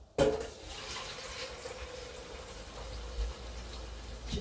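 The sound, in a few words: pouring water into air fryer drawer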